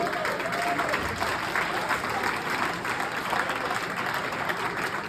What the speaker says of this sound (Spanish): ¿por qué no le dice, Señor, muchas gracias y le da un aplauso fuerte?